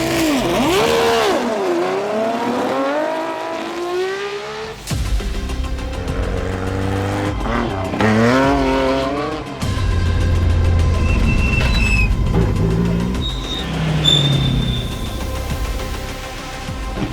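Race cars at the Tour Auto charge along a closed-road special stage in France, loud engines revving and shifting through gears as they pass close by, with whining downshifts and a brief tire squeal.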